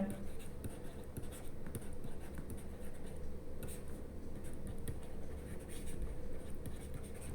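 Chalk or marker scratches across a board during a maths lesson on divisibility, in short irregular strokes that are faint against a steady room hum, while a teacher talks over them.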